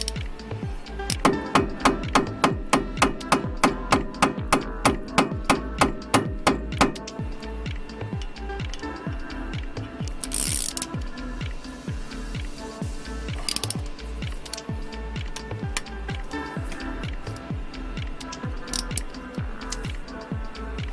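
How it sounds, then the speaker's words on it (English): Work on seized front brake caliper screws of a Vauxhall Corsa D opens with a quick regular series of sharp metallic hammer taps, followed by irregular clicks, clunks and ratcheting tool sounds close by. "push on the screw"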